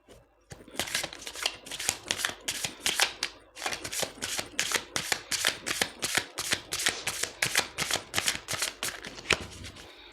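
Tarot cards shuffled by hand, a close, crisp run of rapid riffling bursts repeating in a steady rhythm, alone without talk.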